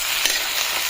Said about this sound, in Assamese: আদা নহৰু জ্বালা বটাখিনি দি কিছু সময় ভাজলোঁ